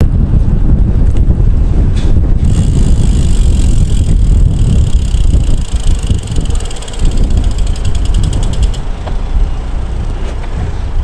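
Strong wind buffets the microphone throughout a cold morning ride outdoors, a loud continuous roar with gusty swells and no talk.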